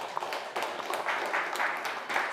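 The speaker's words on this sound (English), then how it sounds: "Give them an applause." An audience at a clean energy panel discussion gives a short burst of moderate, steady clapping.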